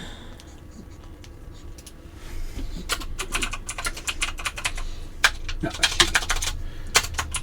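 Keys clack on a computer keyboard in quick irregular bursts of typing. The pace builds after a quieter start, over low background hum, and a voice briefly speaks.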